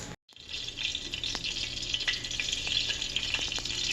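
Steady, loud sizzling and hissing of water hitting a hot pan, with a few faint clinks, continuing throughout after a brief silent start.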